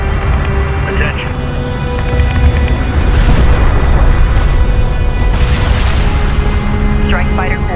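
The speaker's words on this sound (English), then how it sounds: "Multiple missile signatures detected. Missile barrage in the air." Heavy booming missile barrage explosions in the space strategy game Homeworld: Deserts of Kharak, a deep rumbling roar that swells in the middle, mixed with a game voice speaking throughout.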